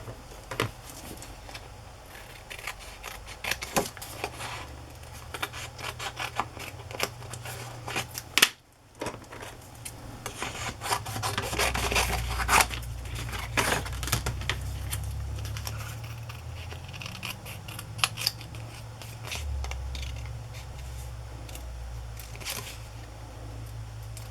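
Scissors snipping paper pieces at a desk, a steady run of small crisp cuts and rustles with a brief pause midway, close and moderately quiet.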